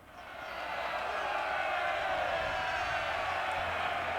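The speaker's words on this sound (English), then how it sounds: "Some cheering Ashigaru guys" Ashigaru soldiers cheer in a Total War: Shogun 2 battle, a steady, distant wash of massed voices that fades in at the start and holds evenly for several seconds.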